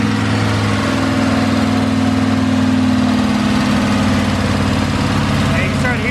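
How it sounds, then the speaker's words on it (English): A Ford F100 with a new engine idles steadily and loudly up close, a low rumbling drone with a faint ticking lifter on the driver's side. "We got a little lifter noise on the driver's side of the engine."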